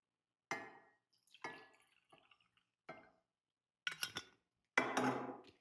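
Water being fetched for a creatine drink in a kitchen: several separate clinks, drips and short splashes spaced out over a few seconds, with the last bursts louder and longer, as if pouring.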